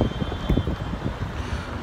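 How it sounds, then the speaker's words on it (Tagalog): Strong wind buffets the microphone in rough, rumbling gusts with no voices. "Ayan na naman yung malakas na hangin."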